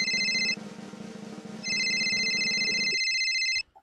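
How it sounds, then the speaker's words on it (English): A telephone ringtone sounds for an incoming call during a Montreal Canadiens and Laval Rocket hockey broadcast, two loud electronic ring bursts separated by a short gap, then silence. "We have a phone call from Laval Rocket."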